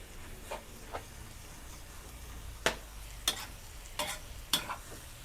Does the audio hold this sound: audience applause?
no